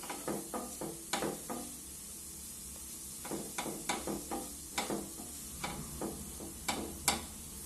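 Masala for a prawn dish is stirred in a pan, a spoon tapping and scraping in a quick irregular rhythm over a faint low sizzle.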